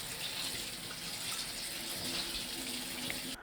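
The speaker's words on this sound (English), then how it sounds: "So right away I'll pour some cold water." Cold tap water runs steadily and close by, splashing onto freshly drained noodles in a sink for an Indo-Chinese mixed vegetable noodle dish, a continuous broadband rush that stops abruptly at the end.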